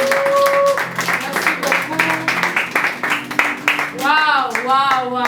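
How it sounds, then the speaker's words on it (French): Audience at a French-language conference clapping, a steady patter of hands running through the clip beneath a speaker's voice, which continues over the applause and rises into animated speech near the end. "Si vous pouvez applaudir, soyez quand même gentils."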